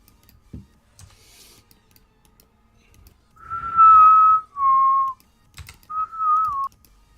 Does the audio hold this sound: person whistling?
yes